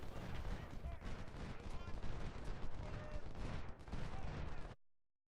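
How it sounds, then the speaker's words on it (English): Civil War video game gunfire as a detached skirmisher fires on artillery: dense, crackling volleys of musket shots roll on continuously, loud and busy, before cutting off abruptly near the end. "So I send a detached skirmisher up to take a shot at his artillery."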